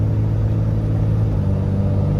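A Cummins-swapped Ford truck towing a trailer pulls under part throttle, its engine giving a constant, loud, low droning rumble inside the cab with no talking.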